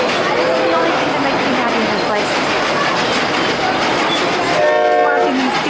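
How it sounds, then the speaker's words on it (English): A kid's ride-on train running at an indoor train show convention, its steady rolling rumble and a brief horn-like tone late on mixed into loud, continuous hall crowd noise and chatter. "A kid's train."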